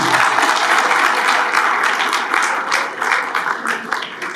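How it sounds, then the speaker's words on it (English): Loud, dense applause from an audience at a charity fundraising dinner in Birmingham, steady clapping filling the room with a few louder bursts, with no voices on top. "you should be clapping for yourselves, not the charity"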